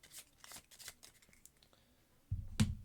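Playing cards are riffled and shuffled into a deck during a Marvel Champions card game, a soft papery flutter in short bursts that ends in a louder riffle and thump close to the microphone.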